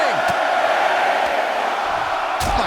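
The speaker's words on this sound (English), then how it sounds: "The sound of this crowd is deafening" A roaring arena crowd in the WWE 2K24 wrestling game cheers loudly and continuously, with a few sharper shouts and whoops rising out of the dense, steady wall of noise.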